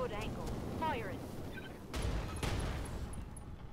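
Mech weapons fire in the video game Roguetech: two heavy booming blasts in quick succession over a rumbling game background, with voices speaking before them.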